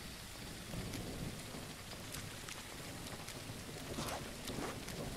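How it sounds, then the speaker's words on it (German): Steady rain and rolling thunder in the video game No One Survived, a continuous dense hiss of downpour with soft distant rumbles swelling underneath, heard alone without voices. "weil der Regen macht uns sauber"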